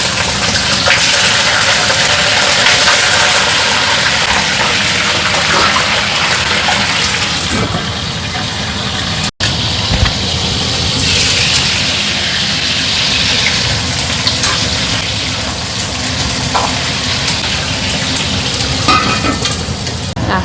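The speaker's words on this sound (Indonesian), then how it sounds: "pertama kali goreng cumi." Squid frying in a pan gives a loud, steady sizzle and crackle that runs unbroken throughout, with one sharp click near the middle.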